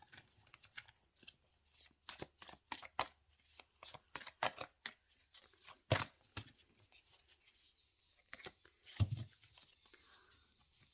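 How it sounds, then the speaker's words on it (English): Tarot cards are shuffled by hand at close range, a quiet, irregular series of crisp riffling and slapping bursts with brief pauses between them and no talking. "So I'll shuffle the cards"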